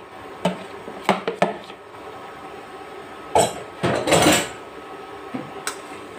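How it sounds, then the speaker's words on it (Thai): Holy basil is stir-fried in a pan with fish sauce, light soy sauce, sugar and oyster sauce, and a utensil strikes the metal in irregular clanks and clinks, with a few longer scraping strokes between quieter moments. "ใส่ลงไปเลยตามด้วยผัดใบกะเพรา"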